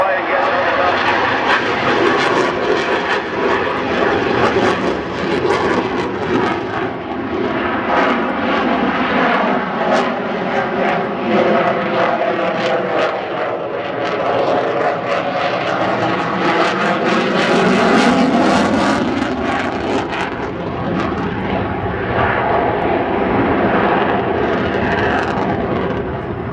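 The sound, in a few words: aircraft flying a simulated touch and go low approach at air show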